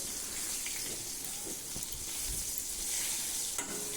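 Bitter gourd is stirred as it fries in a pan, a close, busy sizzle broken by scraping strokes of the spoon.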